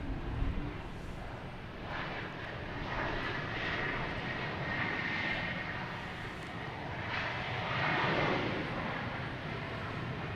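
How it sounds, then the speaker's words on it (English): A JetBlue airliner landing at Boston Logan Airport gives a steady, broad jet roar that swells and eases over about ten seconds, heard from a distance with no talk over it. "Got this JetBlue just touching bottom here."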